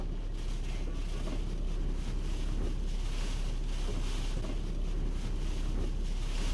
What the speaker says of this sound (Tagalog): Malaipo-ipo ang hangin sa Maharlika Highway sa Pili,